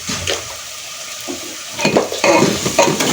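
Red chilies, turmeric and spices roasting in hot oil for dhaba-style daal mash, a loud close sizzle with wet crackling and spoon scrapes that build toward the end, and no one speaking.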